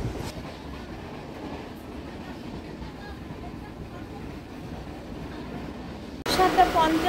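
A passenger train departs from Bogura, its wagons rumbling steadily along the rails with faint clacking, then growing louder and brighter in the last second.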